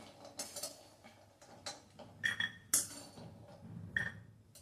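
A roasted mixture for traditional gum laddoos is scooped into a bowl, giving light scattered clinks and taps of a utensil against dishware, quiet and irregular with a few brighter metallic chinks.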